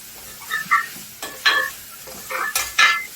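Tomato rice is stirred in a pan over a high flame, with repeated scraping and clinking strokes of the spoon against the pan over a soft sizzle.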